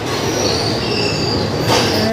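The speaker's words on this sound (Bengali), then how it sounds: "ফাইনালি আমাদের ট্রেন ঢুকে গেল, গৌড় এক্সপ্রেস।" The Gour Express train arriving at Rampurhat station, its railway wheels squealing in a long, loud, close high-pitched screech over a rumbling roll of carriages, swelling briefly near the end.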